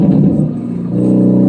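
A roughly 600-horsepower rear-wheel-drive Jaguar engine downshifts with a loud, steady low rumble that swells slightly toward the end, close to the microphone and with no talking.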